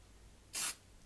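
A single short burst from an aerosol spray can coating a Matchbox Lesney #74 Daimler model bus, a close hiss lasting about a quarter second between quiet pauses.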